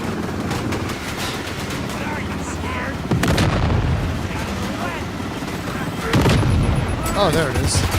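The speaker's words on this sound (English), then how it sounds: "there's also an airstrike that you can do" Airstrike explosions in a third-person shooter video game, continuous booming blasts and gunfire rumbling throughout, with heavier bursts near the middle and end, under a talking voice.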